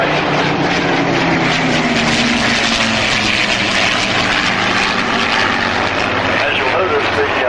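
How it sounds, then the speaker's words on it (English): A World War II heritage flight of aircraft passes over an air show in California, its heavy propeller-engine drone loud and continuous throughout with a wash of wind and crowd noise underneath. "ladies and gentlemen, from your right, a World War II heritage flight."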